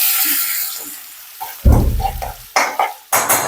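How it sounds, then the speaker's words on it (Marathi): Ground garlic sizzles in hot oil for a dal tempering, crackling bursts starting midway with louder splutters near the end, close and fairly loud, no voices. "आपण दालबट्टीसाठी डाळ फोडणी करणार आहोत त्यामध्ये आपण वाटून घेतलेलं लसूण"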